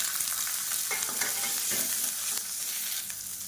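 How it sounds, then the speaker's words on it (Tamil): Peppercorns, garlic cloves, ginger pieces and small shallots frying in hot oil make a dense, continuous crackling sizzle, close and steady, with a few faint stirring scrapes and no talk. "இப்போ பாருங்கள் எல்லாமே பொரிய ஆரம்பிக்குது"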